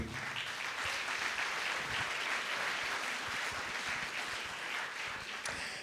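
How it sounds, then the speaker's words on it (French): An audience at an evening event on generative AI applauds a guest of honour with a full, even burst of clapping lasting about six seconds. "On peut l'applaudir s'il vous plaît."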